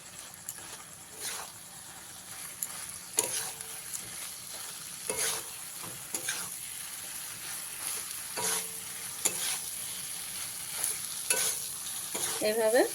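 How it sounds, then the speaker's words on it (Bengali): Fried potatoes and soybean chunks are stirred in an oiled pan, a spatula scraping and knocking against the metal at irregular intervals over a steady low sizzle. "এর মধ্যে আমি দিয়ে দেবো ভেজে রাখা আলু ভেজে রাখা সয়াবিন সব কিছুকে ভালো করে মিশিয়ে দেবো এভাবে"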